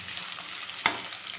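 Chopped carrots sauté in oil in a pan, a soft continuous frying hiss with one brief sharp crackle midway, close and alone.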